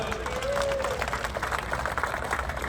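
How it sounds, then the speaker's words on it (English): Crowd applause at Ozark Raceway Park during a drag racing cruise event, a steady wash of clapping with a brief whistle-like tone early on and some voices mixed in. "give yourselves a round of applause"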